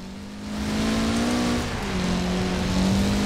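Subaru 22B revving and accelerating in the racing game Forza Horizon 4, a steady loud engine drone with pitch rising and dipping as it shifts through gears, heard alone without talk.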